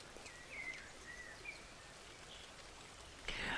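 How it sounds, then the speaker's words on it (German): Steady rain falls in the video game Lumberjack's Dynasty, a continuous soft patter with a brief louder burst near the end, accompanied by faint bird chirps. "Und es regnet."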